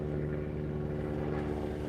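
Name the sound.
helicopter flying overhead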